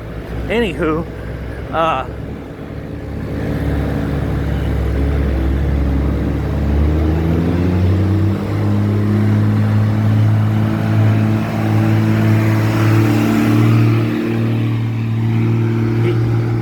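An Icebear Rocket 50cc scooter engine climbing a hill, a close buzzing drone that rises steadily in pitch and holds under strain, after a brief opening of other sounds.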